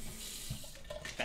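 A water tap runs in a house, a steady faint hiss of flowing water with a few small knocks and clatters near the end.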